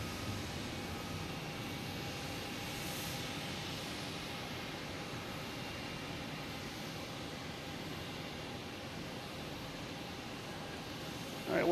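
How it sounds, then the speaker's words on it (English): An American Airlines Embraer E175 jet arriving at Boston Logan Airport, a steady broad engine roar that holds at a constant level for the whole stretch, with no voices over it. "American Airlines coming in from LaGuardia."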